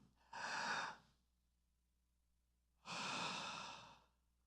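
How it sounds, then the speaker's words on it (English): An audience of several people draws in one long deep breath together and then lets it out in a second long exhale, two broad airy rushes separated by a pause of near quiet. "we're just going to all take a deep breath in and then breathe out"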